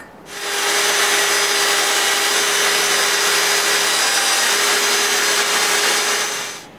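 A power saw rips through clamped boards along a guide rail, its motor spinning up to a loud, steady whining cut for several seconds before winding down.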